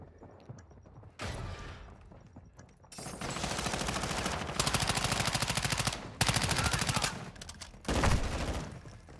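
Sustained automatic gunfire in Call of Duty Modern Warfare II, close and loud, with rapid rattling bursts that build, break off briefly and resume in several volleys before the magazine runs dry.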